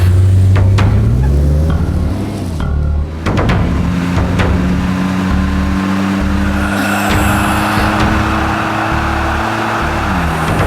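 A car drives in a Tamil TV serial scene, its engine droning loud and close and rising in pitch as it accelerates, with a brief tire squeal partway through and no talking.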